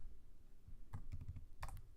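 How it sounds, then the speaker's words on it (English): Keys clack on a computer keyboard in a quiet room, a few quick, light clusters of taps alone. "my typing is bad here"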